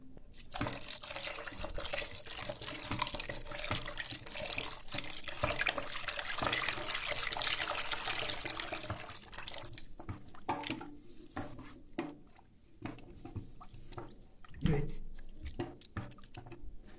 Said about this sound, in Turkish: Ve suyumu döküyorum.